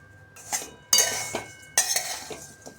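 Metal spoon scraping and clinking against a pot while stirring a thick mixture of jaggery and gooseberries for pickle, in a few distinct bursts with quieter gaps, close up.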